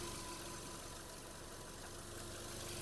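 A Volkswagen Touran engine idles with a steady, continuous mid-pitched hum and faint knock, close and alone with no voices.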